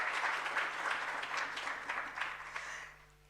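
Audience applause at a university innovation festival, a fairly distant, steady round of clapping from a crowd that tapers off toward the end.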